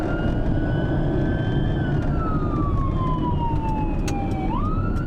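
Ambulance siren wailing in emergency mode on a North Wales ambulance responding to a 999 call, a loud continuous sweeping tone that glides down then jumps back up over steady road and engine rumble.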